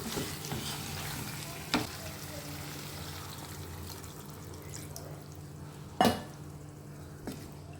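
Water poured into frying potato and pointed gourd curry in a pan gives a continuous bubbling, frying wash with a couple of sharp metallic knocks from utensils partway through, with no speech.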